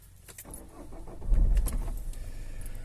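Peugeot 5008 engine turning over and catching, a low rumbling start that swells then settles into a steady idle, with a faint jingle of keys.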